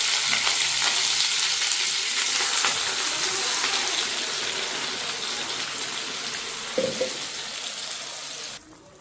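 Spices tempering in hot oil in a home kitchen, a steady bright sizzle and crackle that fills the clip, loud and continuous, then cutting off abruptly near the end.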